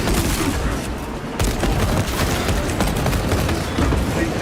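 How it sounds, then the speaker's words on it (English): Frag and shock grenade blasts in the Space Marine 2 video game, a dense, loud barrage of booms and crackling detonations overlapping with battle noise and continuing throughout. "Using frag grenade! Deploying shock grenade!"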